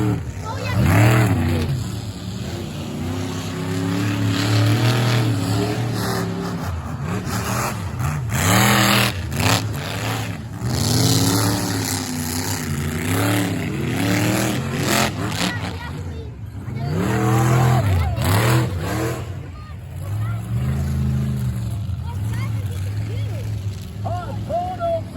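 Monster trucks racing head to head at a monster truck show, engines roaring and revving loudly throughout while an announcer talks over them.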